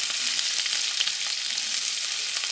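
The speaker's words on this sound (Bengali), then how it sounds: "এরপরে এখানে কুচিয়ে রাখা পেঁয়াজ দিয়ে দিচ্ছি।" Chopped onion dropped into a little hot oil with cinnamon pieces and cardamom pods, frying with a dense, steady close sizzle and faint stirring, no voices.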